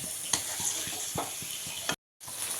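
Ginger garlic paste with ground turmeric and spices sizzles steadily in hot oil, a close, bright frying hiss punctuated by faint ticks and stirring taps, broken by a brief moment of silence near the end.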